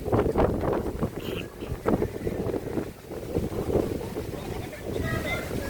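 Strong wind buffets the microphone in loud, continuous gusts at a boat sanctuary where people wait for boat rides, with faint voices around.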